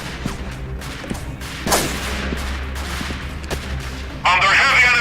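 Bursts of gunfire in the video game Freeman: Guerilla Warfare, sharp cracking shots scattered across a few seconds with a loud sustained burst near the end, heard alone without talking.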